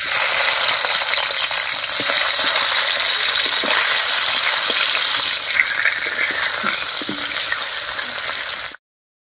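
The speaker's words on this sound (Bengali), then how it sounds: "এবারে মাছের মাথাগুলো ভেজে নেব।" Fish heads fry in hot oil with a loud, dense, hissing sizzle that holds steady for several seconds and then cuts off abruptly.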